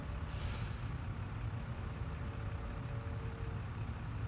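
Heavy tractor engines drone continuously in Farming Simulator 22, a steady low rumble filling the scene with a brief hiss of air release near the start and no speech.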